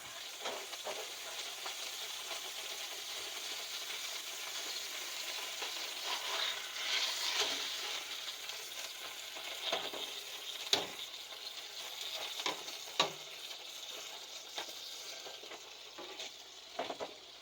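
Hamburgers sizzling and hissing steadily in a pan on a home stove, with a few soft scraping clinks as the patties are flipped, close and fairly quiet, with no talking.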